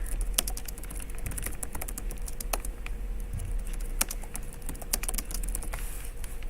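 Rapid, irregular clicking of keys on a computer keyboard while someone writes Python test code, close and steady with occasional sharper strikes, no voices.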